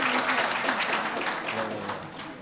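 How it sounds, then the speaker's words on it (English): Audience at a university research symposium applauding panelists, a steady dense wash of clapping, moderately loud and sustained throughout, with faint voices mixed underneath. "Can we give them another round of applause?"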